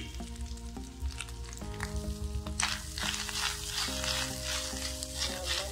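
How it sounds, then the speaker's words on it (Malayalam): Grated coconut roasts in a hot pan for Kerala-style sambar, giving a constant close sizzle with occasional stirring scrapes over quiet background music. "ഇനിയിപ്പോ ഇതിലേക്ക് നമുക്ക് ഈ നാളികേരം ഇട്ട് കൊടുക്കാം."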